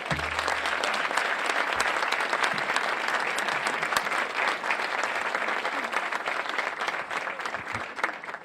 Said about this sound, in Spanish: un aplauso por favor para recibirlo